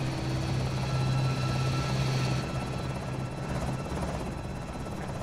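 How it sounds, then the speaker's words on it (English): A helicopter hovers overhead in the Project Zomboid video game, its rotor a loud, steady pulsing drone that fills the whole stretch with no break. "We, we need to get the hell away from this helicopter for the moment."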